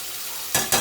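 Garlic and ginger paste hits a pan of salted, softened onions. Two sharp, loud bursts of sizzle and stirring come close together near the end, after a quieter background hiss.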